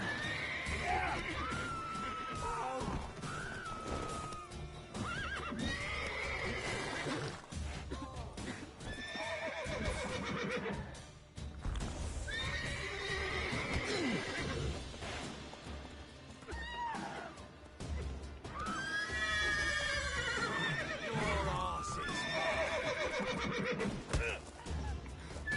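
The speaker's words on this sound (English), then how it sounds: "can that horse get out of the way?" Repeated horse neighs and whinnies ring out over a dense, continuous wash of busy game sound and music in The Witcher 3: Wild Hunt, Blood and Wine expansion, with no clear talking.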